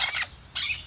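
A bird gives two short, harsh squawks separated by a brief pause, close and fairly clear over a quiet background.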